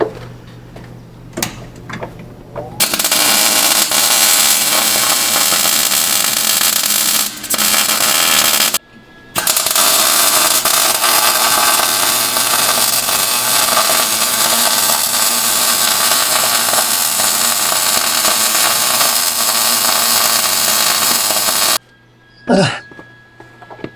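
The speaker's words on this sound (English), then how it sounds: "I guess I'll get the welder out. Try to put a booger weld on it." A welder tack welds an engine mount in bursts of loud, crackling, sizzling arc noise, with a short pause midway and a final stop, and a few faint clicks between.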